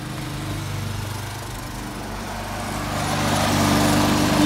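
A lawn mower runs steadily at a moderate distance, its engine droning with a constant buzzing hum that grows slightly louder toward the end, with no talking.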